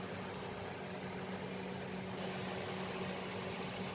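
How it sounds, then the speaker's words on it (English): A blender whirs steadily while blending mango juice, a faint, constant motor hum and churning sound with no talking. "Now I am going to cover this blender and I am going to blend this."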